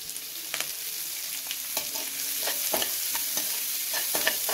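Chopped carrots and beans sizzle in a hot frying pan as a spatula stirs them, with repeated scraping strokes over a steady frying hiss, close and moderately quiet, no voices.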